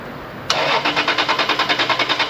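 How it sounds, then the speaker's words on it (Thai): A small engine, one that has been cutting out in flight, is cranked to check the spark plug for a spark. A sharp start gives way to a loud, rhythmic chugging pulse close by, with no talk. "แป๊บนึงนะครับผมสตาร์ทครับ"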